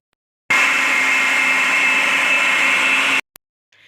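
An electric chopper grinds shami kabab batter in one loud, steady whirring run of about three seconds, starting and stopping abruptly, with a short click afterward.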